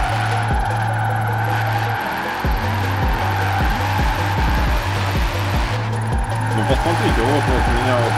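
A Porsche 928 GT drifting in Forza Horizon 4, its engine droning loudly and steadily with rhythmic pulses and a sustained tire squeal. People talk over it throughout.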